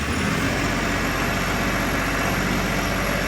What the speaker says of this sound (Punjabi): ਲਓ ਮਿੱਤਰੋ ਕਰਦੇ ਆਪਾਂ ਦਾ 2000 ਆਰਪੀਐਮ ਟਰੈਕਟਰ ਦਾ